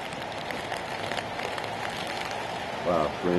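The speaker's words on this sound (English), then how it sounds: "Wow, rain's coming down hard." Heavy rain pours down steadily during a high school boys' rugby match, a continuous hiss over the field, with a voice speaking near the end.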